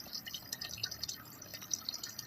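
A weak trickle of water runs from a pipe, a faint, close patter of drips and thin flow with small irregular splashes over quiet background.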